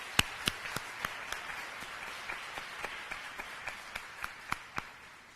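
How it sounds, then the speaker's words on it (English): Thin audience applause at a Women's Equality Day breakfast, a few scattered claps standing out sharply over a soft wash of background clapping, moderately distant and fading. "Let's give her another round of applause."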